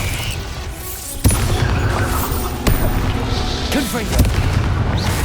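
Bombarda spell explosions in the video game Hogwarts Legacy, heavy booming blasts landing in sequence over a dense rumbling battle din, with a voice shouting amid the action.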